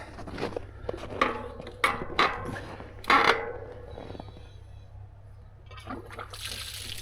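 Water sloshes and trickles as it is poured for calves out in the cold, with scattered splashes and clunks, faint handling noise and a low steady hum underneath.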